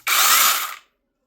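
A DeWalt battery chainsaw gives a single short, loud, high-pitched whir that lasts under a second and then stops dead into silence.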